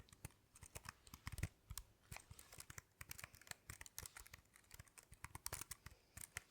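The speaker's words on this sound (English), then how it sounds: "So I end up needing a number keypad, and this one is really clacky" A clacky number keypad being pressed repeatedly, giving a close, dense run of sharp plastic key clicks in irregular bursts with no talking.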